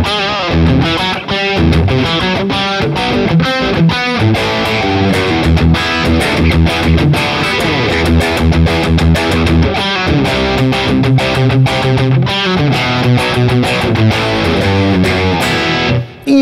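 Electric guitar played through a BOSS Katana Go headphone amp with reverb: dense, continuous distorted chords and notes fill the whole stretch at steady loudness, with a reverb tail spreading out behind the playing.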